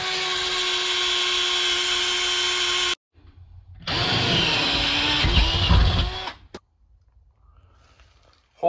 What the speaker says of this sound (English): Let's just drill it, tap it out, and check.